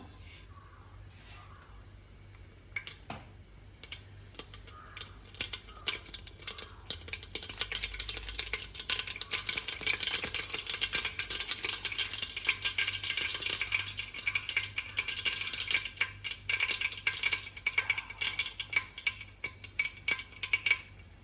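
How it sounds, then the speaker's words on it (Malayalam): Mustard seeds spluttering in two spoons of hot coconut oil for a Kerala egg curry, a steady dense crackle and sizzle that builds and holds close up, with occasional utensil clinks. "കടുക് പൊട്ടിക്കഴിഞ്ഞു"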